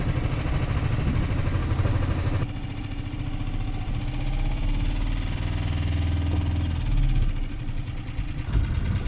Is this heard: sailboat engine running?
yes